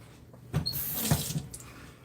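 Peppers rinsed under running tap water at a kitchen sink, heard as a few short, close splashing bursts of water over a quiet background.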